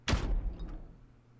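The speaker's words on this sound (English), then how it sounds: "we heard the door begin to open" A heavy sci-fi door in the video game Zero Escape: Virtue's Last Reward opens with one sharp, loud thud-like burst followed by a fading mechanical hiss and hum, with no voices.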